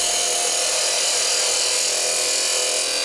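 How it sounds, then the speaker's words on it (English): A parting tool cuts into a spinning piece of wood on a lathe, shaping a bead and cove. It makes a steady, loud, hissing scrape that runs unbroken through the whole stretch, with no talk. "Use my parting tool."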